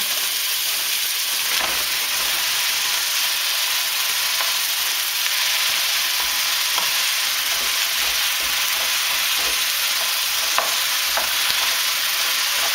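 Carrots and zucchini sizzle and steam in a one-pot couscous, with a constant loud hiss and soft scraping as the vegetables are stirred now and then.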